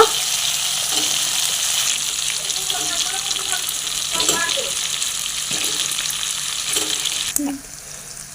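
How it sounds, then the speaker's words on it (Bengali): Fried potatoes stirred into a spicy katla fish curry masala with grated tomato: strong continuous frying sizzle, occasional spoon scrapes and soft clinks, close by, with the hiss dropping off abruptly near the end. "ভেজে রাখা আলুগুলো আমি দিয়ে দেব।"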